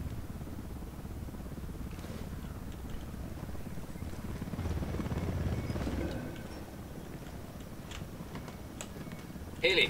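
A helicopter's low rotor thrum in the video game Ghost Recon Wildlands rumbles steadily beneath game sounds, swelling in the middle, with scattered clicks and a sharp burst at the end.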